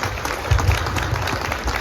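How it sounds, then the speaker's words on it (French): An audience in Toulouse clapping at a community gathering, close and fairly loud, with uneven bursts and a faint murmur of voices underneath. "Un peu plus d'applaudissements, s'il vous plaît."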